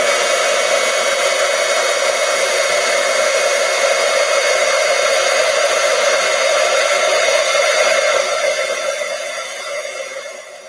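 A heat tool blasts steadily to melt white embossing powder on a card sentiment, a loud, even, hairdryer-like rushing hiss with a whine that runs unbroken and then eases off near the end.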